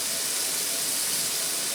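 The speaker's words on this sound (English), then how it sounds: "So I'm going to stick those in the pan." Thawed shrimp sautéing in a pan, giving a steady, even sizzle that stays alone with no talk over it.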